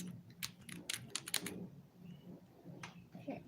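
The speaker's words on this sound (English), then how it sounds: "So I'm typing my answer in." Quiet, irregular keyboard taps, a few quick clusters of clicks spread over a few seconds, with a faint low background hum.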